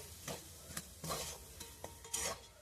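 Chicken filling in a pan being stirred with a spoonful of gram flour, giving soft repeated scraping strokes over a faint sizzle, quiet and close with no voices.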